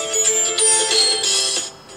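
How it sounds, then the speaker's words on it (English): A phone ringtone plays a bright, steady electronic melody at moderate loudness for about two seconds, then drops away near the end, with no talking over it. "I've got to ask my phone if you like my ringtone."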